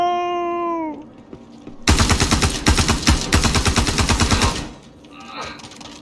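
Rapid automatic gunfire from a video game weapon rattles loud and dense for about three seconds. A tonal sound with falling pitch comes before it, and a voice talks near the end.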